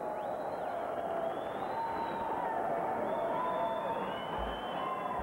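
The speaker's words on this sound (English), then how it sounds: "Listen to this crowd." A boxing arena crowd roars in a constant, dense wash after the ninth round of a pro bout between Orlin Norris and Adolpho Washington, with sharp whistles drifting over the noise.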